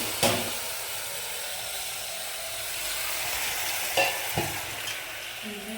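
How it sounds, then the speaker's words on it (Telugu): Mutton marinated with chili powder, turmeric and a little oil fries in a pan, a soft steady sizzle broken by a few sharp scrapes and clacks of stirring near the start and again toward the end. "ఇదిగోండి బాగా కలుపుకోవాలి, బాగా ఫ్రై అయ్యే వరకు."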